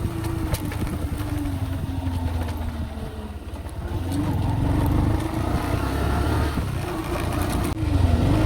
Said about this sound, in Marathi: आम्ही यायला गाडी आली आहे बघा